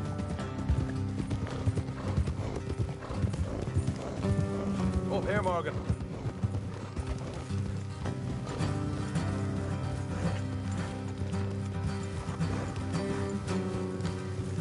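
Horse hooves clip-clop steadily at a trot in the video game Red Dead Redemption 2, under a brief spoken line, with a faint whinny partway through and a background musical bed.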